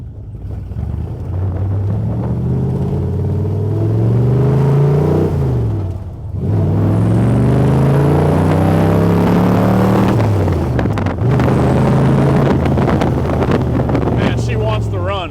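A 1965 Shelby Cobra CSX3010 tribute car drives hard and accelerates, its V8 rising in pitch through the gears with a brief drop between shifts, loud and close over heavy wind rush.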